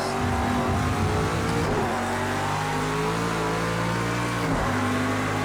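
A race car in a racing video game roars continuously through a lap, the engine loud and close, revving up and shifting with a brief dip and rise in pitch partway through.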